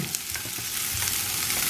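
Chopped vegetables sizzle and crackle in a hot pan as they are sautéed, a close, loud, steady frying hiss with small stirring clatters.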